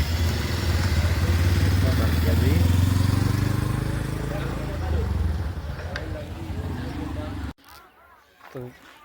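A motorcycle engine rumbles and putters up close for several seconds before cutting off abruptly, and people talk over it.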